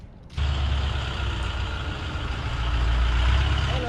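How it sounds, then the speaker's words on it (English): A wood chip truck pulls up with a sudden loud, hissing burst, then a heavy diesel rumble that holds steady and close. No voices are heard. "I think I just saw a chip truck pull up"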